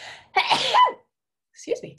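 A single sharp sneeze bursts out, followed after a brief pause by a short spoken phrase.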